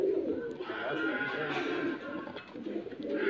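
Black-tailed high flyer pigeons coo softly in a loft, a low murmuring call repeating steadily throughout at close range.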